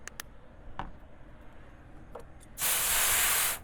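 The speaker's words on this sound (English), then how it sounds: "I'll just spray a little bit or put a little bit of Dawn in there" A spray bottle squirts water and Dawn dish detergent into a chicken egg incubator, with a few faint taps first and then one loud, close, sustained hiss of about a second.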